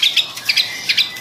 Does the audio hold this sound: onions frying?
no